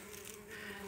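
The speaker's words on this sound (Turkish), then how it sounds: "Evet, polen getiren bir arı giriş deliğini arıyor." A honeybee carrying pollen buzzes steadily close by as it hunts along a hive for the entrance hole, a faint continuous hum alone for under a second.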